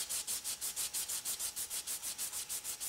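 Fine sandpaper rubbed back and forth over the worn edge of a crankshaft, a quiet, even rasping stroke repeating about five times a second, close and alone.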